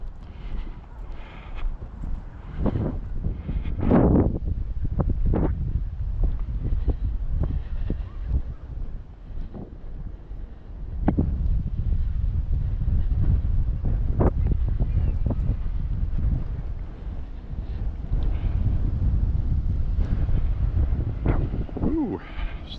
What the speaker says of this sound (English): Ooh, stiff wind.